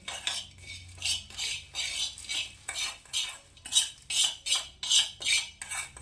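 Spices and oil are stirred together with a metal spoon, giving a rapid run of scraping and clinking strokes against the vessel, close and fairly loud, in a steady back-and-forth rhythm.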